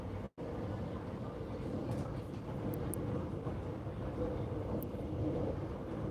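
Steady low rumble and rattle from the rear carriage of a moving Melbourne suburban train, a continuous near drone with faint squeaks, briefly cut out near the start.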